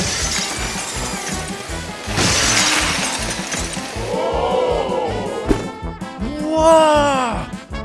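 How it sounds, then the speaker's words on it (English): Crunching, shattering cracks of ice breaking apart under a drill bit, with scattered clinks and a rumbling, ringing background throughout. "the drill bit broke through the ice easily."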